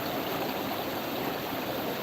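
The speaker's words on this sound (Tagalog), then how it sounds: "Ito na yung sapa na pinakita namin." A small stream flows steadily throughout, a constant broadband rush of running water with no talk over it.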